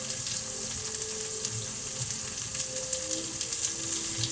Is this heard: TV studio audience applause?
no